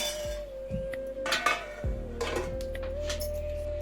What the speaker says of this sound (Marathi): आता झाकण ठेवून घेऊ.